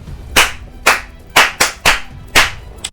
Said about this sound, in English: let me clap for you